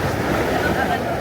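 Sea surf at Lanca beach in Mati City, Davao Oriental, a steady wash of waves with wind rumbling on the microphone, close and continuous over a brief span.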